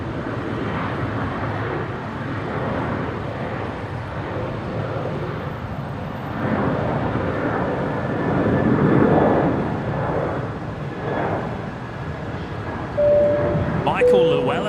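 An Air Niugini airliner taxiing at Brisbane Airport, a steady low jet rumble that holds throughout and swells slightly midway, with a faint tone near the end.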